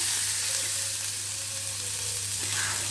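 Tomatoes sauté in a pan for a brinjal kuzhambu, making a continuous, even hiss of sizzling oil with faint stirring and no talk.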